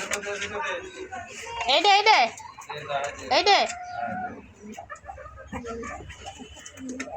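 Pet birds, pigeons or doves, flutter and coo close by, with soft cooing and bursts of bird calls while a person talks over them.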